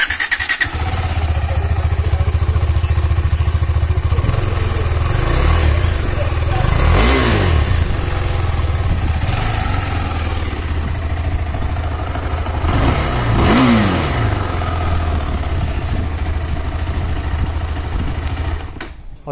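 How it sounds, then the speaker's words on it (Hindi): KTM Adventure 390 motorcycle engine idling close by, with two strong revs rising and falling around the middle, then a steady loud idle continuing to the end. "अभी मैं आपको साउंड सुनाता हूँ बाइक की"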